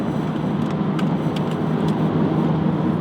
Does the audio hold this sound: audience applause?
no